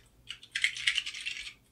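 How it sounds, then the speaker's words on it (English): Computer keyboard keys pressed during a live Swift coding session for a typing game, a quick run of close, crisp clicks and taps with no talking. "So let's press some keys."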